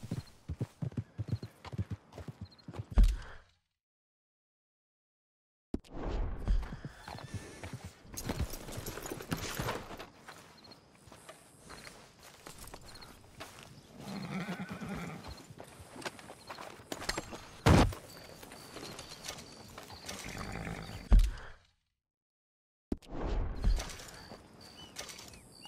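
A horse in Red Dead Redemption 2 clops its hooves in uneven bursts, with creaking tack and a whinny, moderately close, broken by short stretches of silence.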